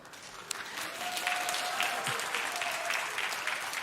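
Young church congregation clapping steadily together during a sermon, a dense sustained patter of many hands at moderate distance, with a faint held sung or hummed tone running beneath.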